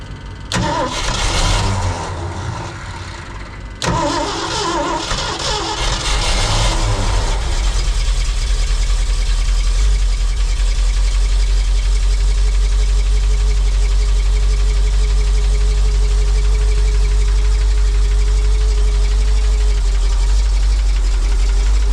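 An old fire truck engine cranks and catches after a couple of tries, then settles into a loud, steady rumbling idle with the choke on, close by and running continuously.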